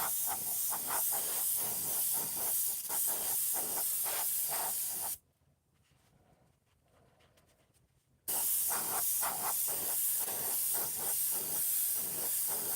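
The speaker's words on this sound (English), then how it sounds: "Just spraying air, just doing the air over it right now." An airbrush blows air over fresh paint to dry it, a loud pulsing hiss that stops abruptly for a few seconds of near silence and then resumes.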